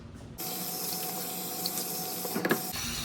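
Cold tap water runs steadily from a faucet into a sink, a constant close splashing hiss with a few brief louder splashes near the end, no talk.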